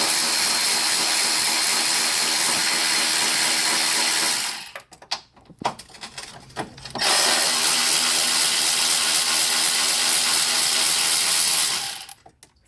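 An electric ratchet whirs loudly and steadily near a car battery, stops for a couple of seconds of clicks and handling, then runs again in a long continuous buzz before cutting off.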